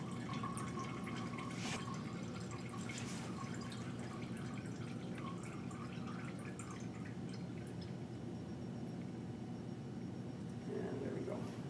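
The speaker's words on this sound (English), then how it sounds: "We've drained out the brine solution, now we just have the diethyl ether, our product" Brine solution drains from a separatory funnel in a lab, a faint, steady trickle with scattered small drips that runs continuously over quiet room noise.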